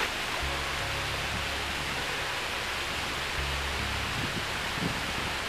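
Mountain trail waterfalls near Saint-André-les-Alpes rush in a steady, even hiss of falling water, a constant wash of noise with a faint low hum passing underneath, no voices heard.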